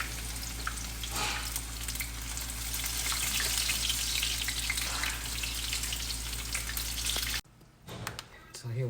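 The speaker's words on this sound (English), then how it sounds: "And now begin frying your broccoli," Broccoli sizzles loudly in a hot pan with steady crackling and stirring, then the frying cuts off suddenly near the end.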